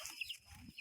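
Farm chickens cluck in short bursts, close by, with a few quick calls over quiet background.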